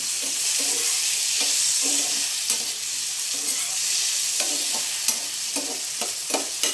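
Tomato sizzles and fries in a hot pan for a carrot coconut chutney, a steady broadband hiss with intermittent stirring scrapes and taps throughout, close and fairly loud with no talking.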